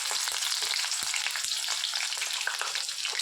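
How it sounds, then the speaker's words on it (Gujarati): Chopped onion and garlic frying in a hot pan for a Gujarati gedhra recipe: a dense, steady sizzle and crackle throughout, with a few sharp pops and spatters near the pan and no voices. "હવે આપણે તેમાં આ ડુંગળી નાખી દઈશું"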